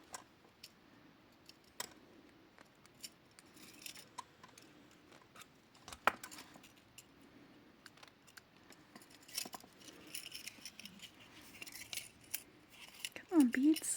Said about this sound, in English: Cut the wire, not your finger.